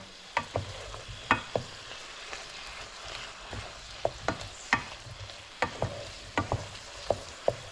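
Two cloves of garlic sizzle in garlic-infused olive oil in a skillet while a utensil stirs, with sharp irregular scraping clicks over a soft steady frying hiss, close up.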